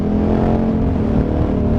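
A KTM 950 Adventure Rally motorcycle with a 108 hp carburetted engine roars steadily at high revs while riding on the road, loud and close, with constant wind and engine drone.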